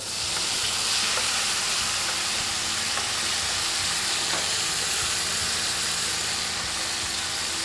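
Garlic frying in a pan, a steady close sizzle with soft crackles and pops running throughout, no voices.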